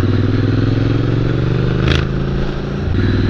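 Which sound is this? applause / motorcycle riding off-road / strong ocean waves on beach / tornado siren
motorcycle riding off-road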